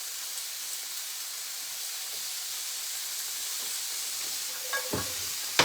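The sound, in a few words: broccoli and onion frying in oil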